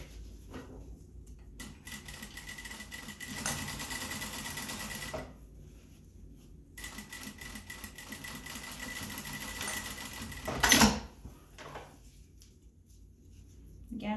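A sewing machine stitching the opening of a fabric procedural mask closed, running in several short bursts separated by pauses, with one sharp click partway through, close and moderately loud.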